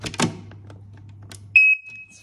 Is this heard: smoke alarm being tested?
yes